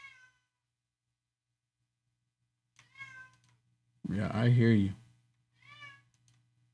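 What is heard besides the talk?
cat meowing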